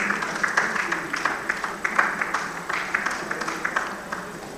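An audience claps in a modest round of applause at an engineering society panel event, quiet and fairly distant, with scattered individual claps.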